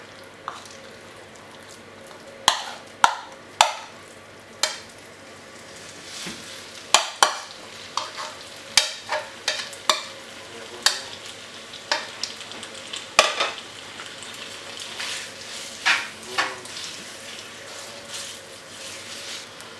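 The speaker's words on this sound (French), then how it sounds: "je fais chauffer un wok avec 3 cuillères à soupe d'huile et je vais rajouter la viande." Beef frying in a hot wok with three spoonfuls of oil, a continuous sizzle and crackle broken by sharp, irregular clacks and scrapes of the utensil stirring the meat, close and fairly quiet, no talking.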